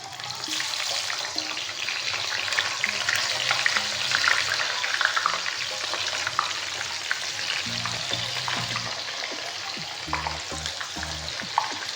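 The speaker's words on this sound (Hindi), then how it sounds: "अब एक एक पीस करके हम इसमें डालेंगे।" White pomfret fish pieces frying in hot oil, a dense steady sizzle with occasional clinks and dull knocks of utensils nearby.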